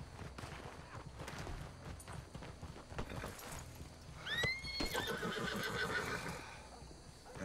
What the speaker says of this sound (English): there's a horse right here.